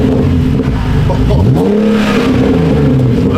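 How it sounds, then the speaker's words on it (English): BMW E46 engine on first start, loud and close, revving up and settling back with a rough, burbling exhaust note that points to pops and crackles, with voices talking over it. "Those pops and burbles."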